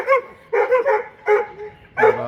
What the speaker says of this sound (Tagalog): Para maingay yung aso.